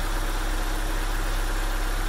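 A Mazda B2000 pickup engine idles steadily and close by, a constant droning rumble with slight vibration and no talking.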